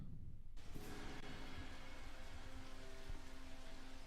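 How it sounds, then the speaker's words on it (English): Rain falls steadily in a scene from the TV series Lost, a continuous wash of dense drops on surfaces with some low rumble beneath and faint tonal background sounds, no clear talk over it. "Because it's raining now."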